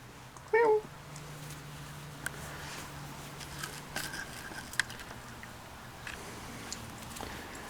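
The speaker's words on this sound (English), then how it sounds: "He's a pretty hefty cat." A hefty cat in a machine shop gives one short, clear meow early on, followed by faint scattered taps and shuffles over a low steady machine hum.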